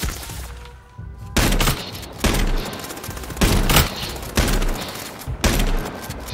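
Video game gunfire in H1Z1, a series of loud, booming bursts spaced about a second apart, each with a sharp onset and rumbling tail over continuous background game noise.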